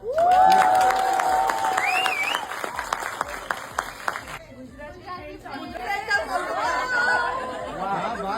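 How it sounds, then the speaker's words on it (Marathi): Audience in a packed cinema hall applauding and chattering, dense clapping under a loud voice at the start, then crowd murmur and scattered claps continuing. "तुमच्यासाठी टाळ्या होऊन जाऊ द्या"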